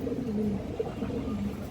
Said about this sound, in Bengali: ফুল ফ্রেশ কবুতর